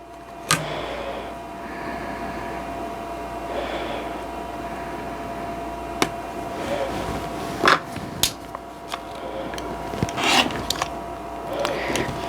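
Rotary cutter trimming a London Blues quilt block along a ruler, a few sharp crisp cutting strokes and small handling clicks over a quiet room hum, close and fairly faint.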